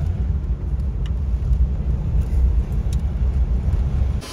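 A 2012 Tata Safari Dicor rolls along the road with a steady, loud low engine and tyre rumble that holds even throughout, with no voices.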